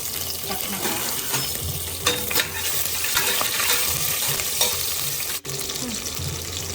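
Shahi jeera cumin seeds spluttering in hot oil in a pan, crackling steadily with scattered sharp pops and light stirring noises, close by with no talk.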